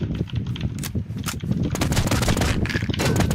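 Rapid video-game gunfire, loud and close, with repeated bursts of sharp shots growing denser and more continuous toward the end, with no speech over it.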